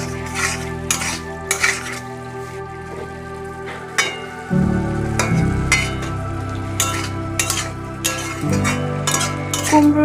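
Pumpkin and moong dal curry stirred in a pan: repeated metallic spoon scrapes and clinks against the pan, close and fairly loud, over a low simmering sizzle that swells once the lid comes off, with no talking.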